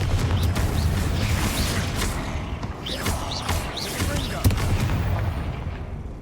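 A Confringo fire-blast spell cast in Hogwarts Legacy, booming explosively amid continuous busy combat rumble, with a sharp burst near the end over a dense, loud background.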